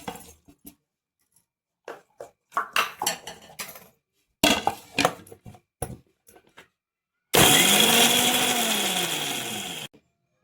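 Mixer grinder whirring as it coarsely grinds green chilies, garlic and cumin for alu vadi paste, a loud steady motor burst of a few seconds that follows scattered clinks and handling of utensils.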